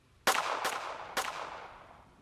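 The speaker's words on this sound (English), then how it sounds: "3 quick gunshots, one after another." Three quick gunshots in the Synergia game ring out, two close together and a third just after, each a sharp crack with a reverberant tail fading between shots.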